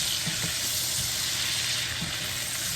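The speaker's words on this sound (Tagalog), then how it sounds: "Tapos ilalagay ko na rin ngayon yung sausage. Cheese sausage ito mga kasimple." Cheese sausage sizzling in a frying pan, with garlic about to go in: a steady, loud hiss of hot oil crackling close up throughout, with faint stirring bumps beneath and no talking.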